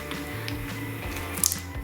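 Water sloshes and squishes inside a closed container holding magnetic ink as it is shaken, a brief rhythmic swishing with a couple of sharp knocks near the end.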